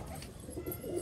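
Pigeons coo softly outdoors, including a white king pigeon among the flock, with a low, steady burbling murmur running through the short moment and no speech.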